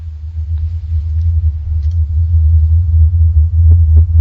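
The Taos Hum, a continuous low-pitched rumble that throbs slightly and stays loud and unbroken, with faint scattered clicks over the top.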